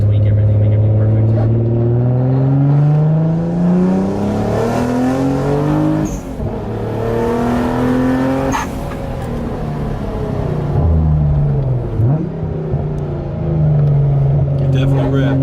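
A turbocharged Nissan Fairlady Z fitted with an R35 GT-R exhaust revs hard, its engine note sweeping up and down through repeated loud climbs and drops, close by, with people talking over it.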